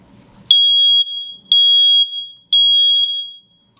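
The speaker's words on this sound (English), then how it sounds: "we right now are going to demo the hearing impaired smoke alarm" A smoke alarm for the hearing impaired blares in three loud, piercing beeps, each about half a second, evenly spaced, ringing close and alone.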